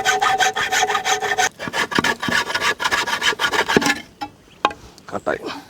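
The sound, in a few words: cutting bamboo pieces for bamboo biryani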